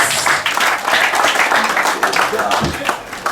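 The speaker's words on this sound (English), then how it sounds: "Oh, give a mighty clap for Jesus." A church congregation clapping during a sermon, dense rapid handclaps filling the room with a continuous patter, fairly loud and close, with voices mixed in.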